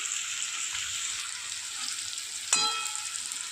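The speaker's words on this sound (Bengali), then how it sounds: "খুব ভালো করে ভাজা ভাজা করে নিয়ে আসি" Potatoes frying in a pan for an egg and potato dish, a steady bright sizzle throughout with one brief clink of utensil against the pan near the end, no voices.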